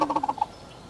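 A person's voice imitating a wild turkey gobble, a quick throaty rattling burst of about half a second, close and loud, followed by quiet.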